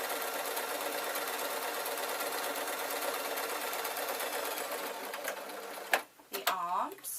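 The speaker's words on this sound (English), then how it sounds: "So what I need to do now is I need to sew" A sewing machine stitching a lined waistcoat runs in a steady, continuous whir for about six seconds, then stops, followed by a few brief handling noises and a short voice.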